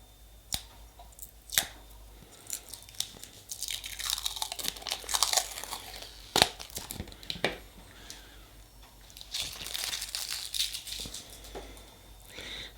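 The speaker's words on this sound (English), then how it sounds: "Let's take the plastic off this." Plastic protective film being peeled and crinkled off a Care Bears nail stamping plate, close irregular crackles and sharp snaps over several seconds, with no talking.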